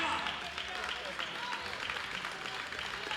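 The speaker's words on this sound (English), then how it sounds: "you'll hear the Swedish crowd cheer when she takes the platform" Swedish crowd at the 2018 World Open Equipped Powerlifting Championships, women's 47–52 kg, cheering as a lifter takes the platform. It is a continuous, fairly distant roar of voices mixed with some clapping.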